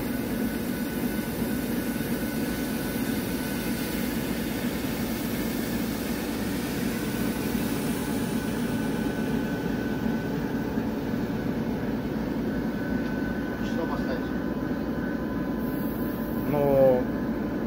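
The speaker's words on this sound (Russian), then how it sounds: "Надо погреть тепловоз." A TEP70 diesel locomotive engine warms up after starting, giving a steady, loud, continuous low drone and broad roar that stays even throughout, with a slight swell near the end.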